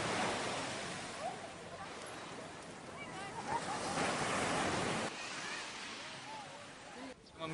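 Waves roll and hiss steadily onto a free-entry Indonesian tourist beach, a continuous broad wash of surf with gusts of wind noise on the microphone and no clear talk.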